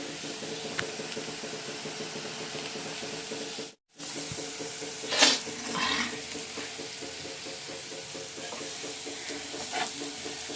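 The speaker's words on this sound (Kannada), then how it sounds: "ಸ್ವೀಟ್ ಬೂಂದಿ ಮಾಡ್ತಾ ಇದ್ದೀನಿ ಸ್ವಲ್ಪಯೇ ಸ್ವಲ್ಪ ಬೂಂದಿ ಇತ್ತು ಅದು ಸಕ್ಕರೆ ಪಾಕ ಹಾಕಿ ಕುದಿಸ್ತಾ ಇದ್ದೀನಿ" Sweet boondi bubbling in sugar syrup in a home kitchen pan, a steady soft sizzle and simmer with occasional stirring scrapes and brief clinks.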